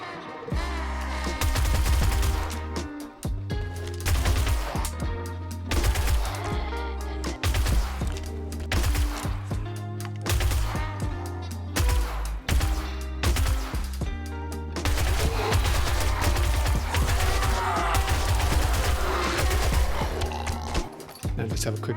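Rapid, sustained gunfire while shooting zombies in 7 Days To Die, dense repeated shots running continuously under a loud, layered game mix.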